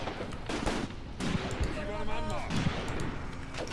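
Steady crackling gunfire from the Graviteam Tactics: Mius-Front war game rattles continuously in the background, with repeated shots and distant bursts over a dense battlefield din.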